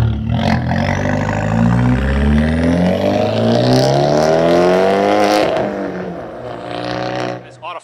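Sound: Fiat 124 Spider Abarth engine revving

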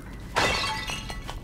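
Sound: clay pots smashing in The Legend of Zelda: Link's Awakening video game

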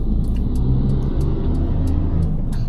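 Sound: car driving on road, heard from inside

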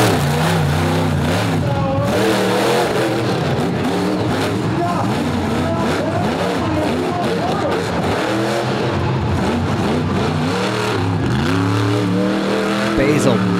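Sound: monster truck engine revving on race course

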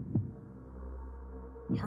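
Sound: heartbeat in horror video game Five Nights at Wario's 3

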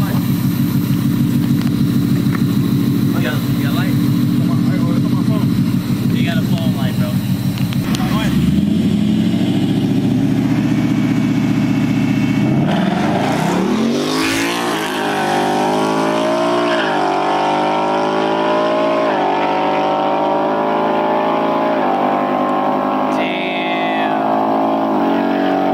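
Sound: Ford Mustang and GTR drag racing, engines revving

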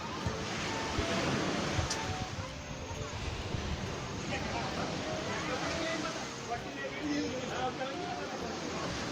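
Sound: sea waves at the beach

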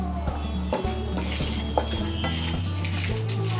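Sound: spice masala being roasted and stirred in a pan

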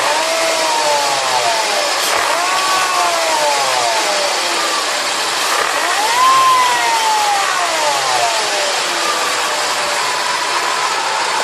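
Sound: Mercedes supercharged engine revving

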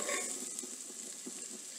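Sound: onions sautéing in melted butter

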